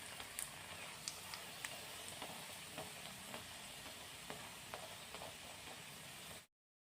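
Lachha paratha frying in hot oil in a pan, a steady close sizzle broken by soft scraping taps as it is turned over, with the sound cutting off abruptly at the end.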